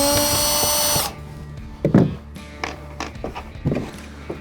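A power drill whirs steadily as it backs Phillips head screws out of a gasket on a NuCanoe Flint kayak, then stops, followed by scattered taps and clicks of handling.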